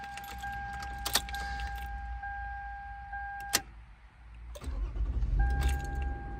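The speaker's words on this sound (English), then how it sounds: "It's turning off the vehicle." A car is switched off and keys jangle close by, in short metallic bursts over a low engine rumble that rises again near the end.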